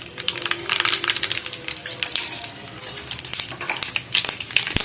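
Mustard seeds and split urad dal crackling and spluttering in hot oil for thakkali kolambu, a dense fast patter of sharp pops and sizzling, close and steady throughout.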